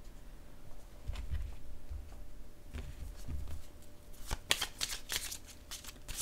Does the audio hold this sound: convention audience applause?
no